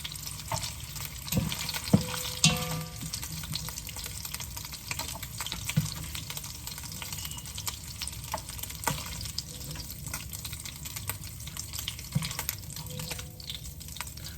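Garlic and onion sauté in a wok, giving a continuous close sizzle with scattered small pops and faint scraping throughout.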